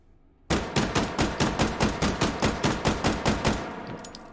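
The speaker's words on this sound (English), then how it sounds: "All right, let's do the recoil test. 14 rounds of 9x19." Rapid burst of 14 gunshots from an Mk22 Mod 0 firing 9x19 rounds in the H3VR video game, evenly spaced sharp reports in quick rhythm, loud and close with no talking.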